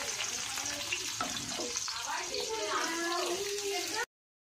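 Onions and bay leaves fry in hot oil in a wok with a steady sizzle and light stirring scrapes, while voices talk in the background; the sound cuts off abruptly near the end.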